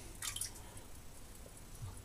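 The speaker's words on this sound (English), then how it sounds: "Pour the water off." Water poured off a boar hair shaving brush before lathering with shaving soap: a short, quiet splash and drip near the start, then soft faint trickles and wet squishes in a hushed room.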